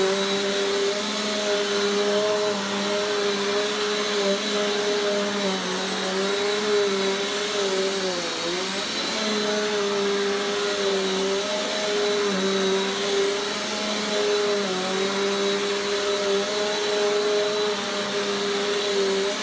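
Bissell Power Force Compact Turbo vacuum cleaner running with a clean filter, a steady close droning hum with a constant whine that wavers slightly, alone with no talking.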